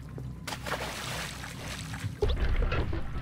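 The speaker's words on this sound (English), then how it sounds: "Ooh, the water is coming." Rushing water floods through a video game level, a broad steady wash with a louder surge of swirling flow near the end.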